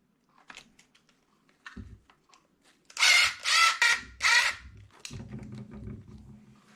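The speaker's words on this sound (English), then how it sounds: "this angle screwdriver does make things easier" An angle screwdriver drives screws into the rear wing of an RC car, with a few close bursts of whirring motor separated by small clicks and handling taps.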